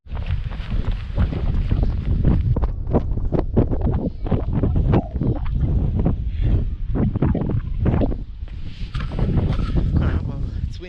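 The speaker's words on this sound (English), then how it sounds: "Well, it's windy now." Wind buffets a microphone outdoors after rain, a loud, continuous low rumble with gusty surges and crackles that runs unbroken for the whole stretch.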